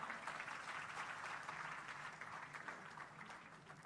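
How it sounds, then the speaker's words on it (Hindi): An audience claps together in a steady, dense wash of applause that stays fairly loud throughout and fades slightly toward the end, with no talking over it. "एक बार ताली बजाइए असुर के नाम पर"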